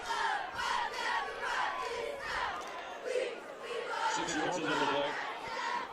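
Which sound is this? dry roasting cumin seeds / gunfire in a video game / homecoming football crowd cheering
homecoming football crowd cheering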